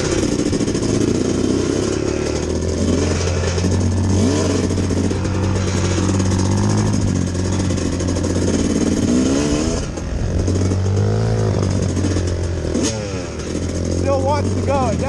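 A 250 dirt bike engine revs on a wet winter forest trail, a loud, steady motor drone with rising and falling throttle swells running through the whole stretch, and a rider talking over it at times.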